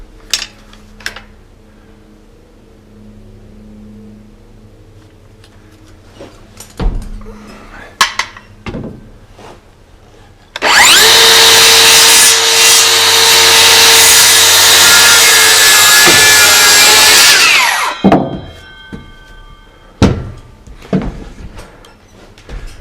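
Power saw cutting wood at an angle during home framing work, a loud continuous high-pitched buzzing cut lasting several seconds, preceded and followed by scattered clunks and taps of handling wood and tools.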